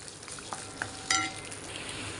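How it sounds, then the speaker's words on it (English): Peanuts fry in a pan for a tamarind rice spice mix, giving a steady close sizzle with occasional sharper crackles and a brief louder stir or clatter midway. "Fry the peanut."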